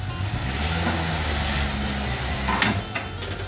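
A Mazda B2300 pickup truck creeps slowly onto a lift with its clutch being ridden, the engine giving a low steady idle hum alongside light metallic knocks and clunks, close by and without voices.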